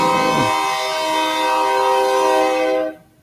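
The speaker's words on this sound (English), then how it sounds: "Sounds like we got a train coming through the house here shortly." Train passing near a house, a loud sustained horn blast over rumbling rail noise that carries on for nearly three seconds before cutting off abruptly, with no talk.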